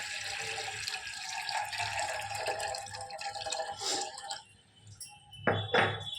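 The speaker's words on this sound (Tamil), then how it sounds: "இப்போ நல்லா கொதிக்க ஆரம்பிச்சிருச்சு" Water boiling in a cooking pot in a home kitchen where brain is being simmered for a fry, giving a close, continuous bubbling and dripping gurgle that eases briefly before surging again.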